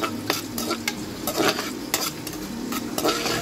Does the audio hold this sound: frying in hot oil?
yes